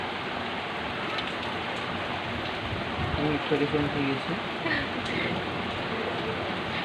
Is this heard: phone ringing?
no